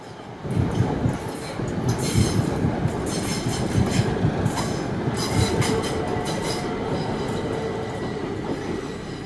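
A train rumbles close by with clattering wheels and faint metallic squeals, a steady heavy roll as it comes into Elsenham station.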